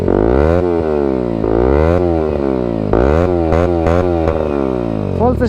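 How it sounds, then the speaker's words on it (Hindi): A 2026 motorcycle engine revs hard through its exhaust in repeated rising and falling sweeps. The snarl is loud and close, with brief dips between throttle blips. "तो एक बार एग्जॉस्ट साउंड सुनो उसका।"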